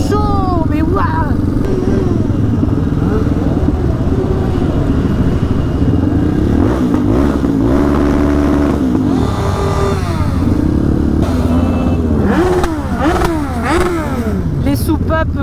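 Roughly two thousand motorcycles roar along a motorway in a protest ride near Lille, engines droning, revving and rising in pitch, loud and close and continuous, with riders' voices talking over the noise throughout.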